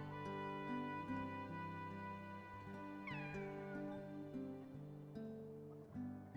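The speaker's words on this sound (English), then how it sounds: "Why does that cat make the same noise as Rio's cat?" A cat in the Kingdom Hearts 2 video game gives a clear, rising and falling meow midway, set against a steady bed of game music.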